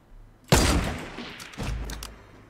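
Two sniper rifle shots in Fortnite ring out, each a loud, sharp crack with a booming tail, about a second apart.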